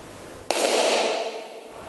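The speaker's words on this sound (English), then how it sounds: "So this was a firecracker that you can do as an impulse sources outside." Single firecracker set off as an impulse source in an ancient open-air theatre: one sharp crack followed by a bright, fading reverberant tail lasting about a second.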